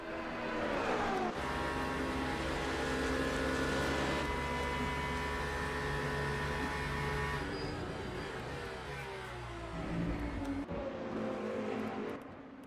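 Aston Martin Valkyrie race car in the Le Mans Ultimate sim at Spa-Francorchamps, its high-revving engine screaming loud and close with rising gear sweeps, brief drops as it shifts and a fading pass near the end.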